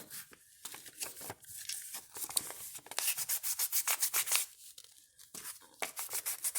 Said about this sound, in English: But this is the 600 grain sandpaper. I'm going to see how it will smooth that out.